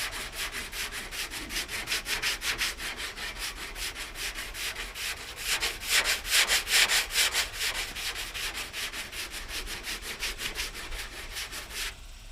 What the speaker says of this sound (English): sand these curved areas maybe a little bit more precise than a block, because you just keep rolling it as you go.